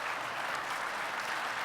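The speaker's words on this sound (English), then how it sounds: "please join me one more time in a round of applause for Dr." Steady, dense applause from a lecture audience for a speaker at a distinguished lecture, an even wash of clapping throughout with no pauses.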